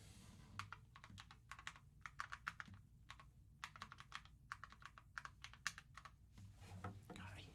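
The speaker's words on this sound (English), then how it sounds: "I hate typing with one hand." A computer keyboard is typed on with one hand, a quiet, close run of uneven clicking keystrokes in short bursts with brief pauses, over a low background hum.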